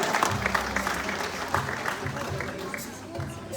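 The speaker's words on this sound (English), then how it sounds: "Let's give her a round of applause." Steady applause from an audience at a tiger show at Dreamworld, a continuous patter of clapping with low rumbles and voices mixed in beneath it.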